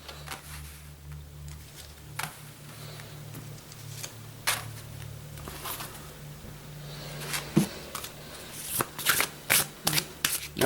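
Tarot cards are shuffled by hand for a twelve-card spread, making soft papery riffles and patters near the listener that grow into sharper, faster bursts toward the end, with no talking.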